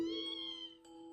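A kitten in the game Trails of Cold Steel gives a single clear, drawn-out meow, high and tonal. It sounds close and is heard alone with no talk.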